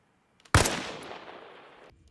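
A single sharp sniper rifle shot with FMJ ammunition in Arma Reforger, fired at a 500-meter target; a loud crack followed by a long rolling echo that fades over about a second and a half, with no talk.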